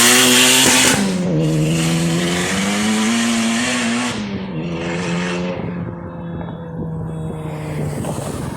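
A K24 turbocharged RSX accelerates hard on a freeway, its engine note rising and dropping through gear changes, loud and close with heavy wind rush, then fading as it pulls away.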